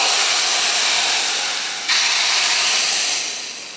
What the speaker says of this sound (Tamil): இப்போ இதை சாம்பாரில் ஊற்றிடலாம்.